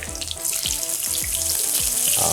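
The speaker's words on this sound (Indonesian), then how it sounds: "saya akan tumis bawang bombaynya terlebih dahulu" Onions sautéing in a pan for chicken panang, a steady hiss of frying with repeated soft knocks of stirring spaced evenly under the sizzle.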